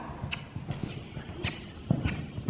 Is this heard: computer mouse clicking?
no